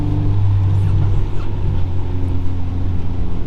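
Inside a Honda Civic EG6 with a 1.6 VTEC engine on a road test in the rain, a steady low engine hum and road drone fill the cabin, close and continuous with no talk.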